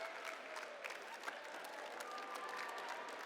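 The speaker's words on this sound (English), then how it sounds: "I love how the other people are clapping." Conference audience clapping at a steady, moderate pace, a spread-out patter of many hands heard from a distance and continuing without pause, with no speech over it.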